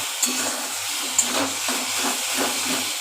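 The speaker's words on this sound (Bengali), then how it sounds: "সব একসঙ্গে কষাচ্ছি।" Spices and masala sauté in a pan for egg curry, giving a steady close sizzle and hiss with a couple of sharp scraping clicks as the mixture is stirred.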